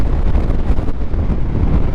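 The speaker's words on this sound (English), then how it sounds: "It is stupid windy, so if you cannot hear me, I do apologise." Strong wind on the Isle of Mull, Scotland, buffets the microphone in a constant low roar and rumble, loud and close, with no voices.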